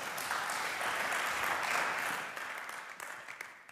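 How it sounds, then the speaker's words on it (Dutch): An audience at a sports federation afternoon event claps for a panel, a dense burst of applause that holds steady and then thins out toward the end. "Dames en heren, graag een applaus voor ons panel."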